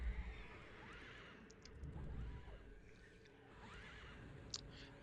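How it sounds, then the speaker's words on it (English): A skeleton horse in EverQuest whinnies softly amid game ambience and combat noise, with a brief rising neigh near the start and a fainter one later. "How is that horse making that horse sound? It's a skeleton horse."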